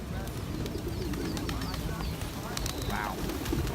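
Birds call outdoors in Mérida, Mexico, with a pigeon or dove cooing in soft repeated phrases among scattered chirps, faint against a steady background hum, with a voice briefly audible.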